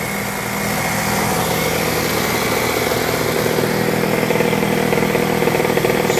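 Custom KTM85 two-stroke engine fitted to a quad bike, running loud and close with a continuous buzzing drone that holds steady throughout.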